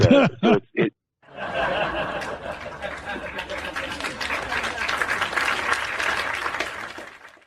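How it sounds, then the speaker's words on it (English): Canned applause plays for several seconds, a dense even wash of clapping that swells and then fades out, with a few short laughs just before it. "usually thank you to canned applause"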